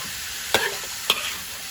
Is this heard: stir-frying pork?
yes